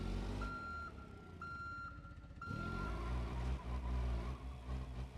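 A forklift in the BeamNG driving game gives off steady, evenly spaced reversing beeps over a low engine hum, then the engine revs up and the beeping stops.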